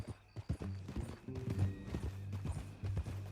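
Steady clip-clop of horse hooves at a walking pace in the video game Red Dead Redemption 2, fairly close, with low rumbling background and faint music-like tones.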